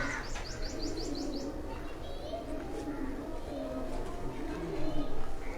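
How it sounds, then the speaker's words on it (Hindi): A Lakhi breed pigeon coos softly in a rooftop loft among other chirping birds, with people talking over it. "ये एक और कबूतर है दोस्तों, ये भी लाखी ब्रीड का कबूतर है।"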